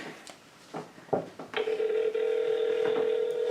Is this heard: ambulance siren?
no